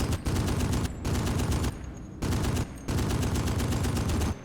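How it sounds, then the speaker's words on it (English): Sustained gunfire from a gun in a WWII beach invasion video game, loud rapid bursts separated by short pauses, with no talk over it. "listen to this gun, even if it is kind of a piece of shit, it sounds like it's got balls. It just sounds mean."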